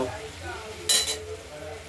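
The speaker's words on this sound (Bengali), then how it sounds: "বারবারই নেড়ে দিতে মশলাটা থেকে তেল বেরোয়নি, আমরা বারে বারে নেড়ে দিচ্ছি" A spoon scrapes and clinks once against a cooking pot while spice paste is stirred for a paneer curry with potato and tomato, a short, sharp clatter over a quiet, low kitchen background.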